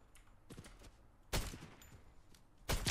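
Gunfire from no-scope shots in a first-person shooter video game, with sharp loud bursts at about 1.3 and 2.7 seconds, quieter clatter between them, and no voices.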